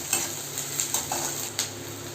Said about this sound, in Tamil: இந்த வெங்காயம் கொஞ்சம் வதங்கி வரட்டும்.